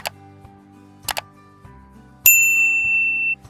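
A bright bell ding chimes once as a subscribe-reminder sound effect, sharp and clear, ringing for about a second after a few faint ticks and clicks.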